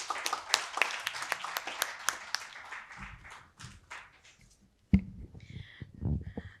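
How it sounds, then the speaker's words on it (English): Audience applause closing a TechMed panel session at a bioeconomy conclave, many people clapping briskly for a few seconds, then thinning out, followed by indistinct voices and rustling. "just give a round of applause"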